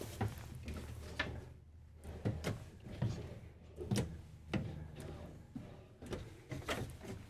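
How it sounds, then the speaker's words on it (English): Soft-closing drawers in a Newmar Dutch Star motorhome pulled open one after another, a series of muffled thumps and slides spaced about a second apart, quiet and close. "Get these opened up for you. You're going to have soft closing drawers."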